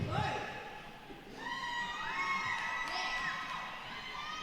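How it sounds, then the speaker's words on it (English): Fans scream and cheer at a roller derby bout, a dense crowd roar with high shrill shrieks and rising yells rolling on throughout, loud and continuous. "I don't know if you can hear those screams in the background"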